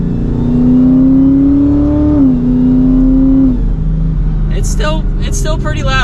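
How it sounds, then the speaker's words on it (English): Dodge Challenger SRT Super Stock with a supercharged V8 revs loudly up close, its engine note rising, holding and dropping before settling to a rumble, with a brief voice near the end. "It's got that healthy V8 note that you want if you're looking for a muscle car like this."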